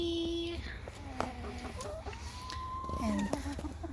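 Backyard chickens clucking softly at bedtime, with a mixed flock that includes a turkey and fuzzy white chicks, making scattered close calls and short tonal notes against a steady low background hum.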